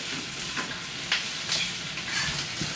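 Steady sizzling and crackling of luncheon meat frying in a pan, with occasional sharper pops and light stirring, close by and continuous.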